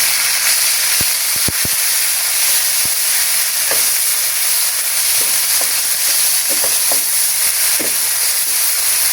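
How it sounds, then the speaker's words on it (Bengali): Boiled red amaranth greens sizzling in hot oil in a pan, a loud continuous frying hiss with scattered spatters and scrapes of stirring throughout. "এবার আমি সিদ্ধ করে রাখা শাকগুলো তেলের মধ্যে দিয়ে দিচ্ছি।"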